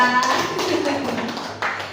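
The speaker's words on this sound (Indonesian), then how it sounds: "Tepuk tangan dulu dong untuk Bu Lila." Participants in a positive-culture teacher training session clap for a teacher, a steady patter of hand claps with a brief louder burst near the end, close and moderately loud.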